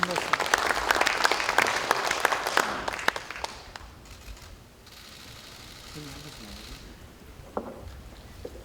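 Applause from lawmakers at a Democratic Party caucus assembly, a loud burst of many hands clapping for about three seconds that quickly thins into scattered claps and fades, followed by quiet room tone and a few soft voices.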